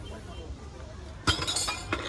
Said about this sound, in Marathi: ग्लास पाडायचे 5 ग्लास